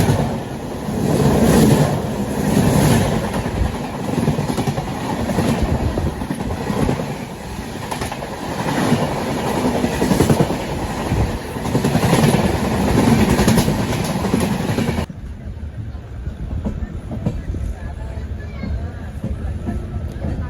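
Steady rumble and rattle of a passenger train running on rails between Kolhapur and Kadapa, heard from on board. It is loud and continuous with a voice talking over it, then drops abruptly to a quieter hum near the end.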